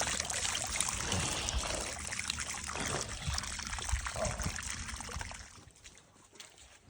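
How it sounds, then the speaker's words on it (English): Water from a newly drilled well on a temporary setup flows and splashes steadily, a broad continuous rush that eases slightly toward the end. "It's on a temporary setup, but hey, we have water."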